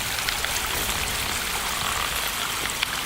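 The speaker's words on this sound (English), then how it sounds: "got our spillway running" Water from a rock-lined pond spillway rushes and splashes in a steady, close, broadband wash that holds even throughout, with no voices.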